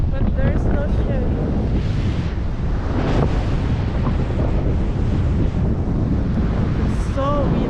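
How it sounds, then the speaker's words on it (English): Strong wind buffeting the microphone with ocean surf rolling in on Manzanita Beach, Oregon, a constant loud roar throughout with brief speech near the end. "It's so windy."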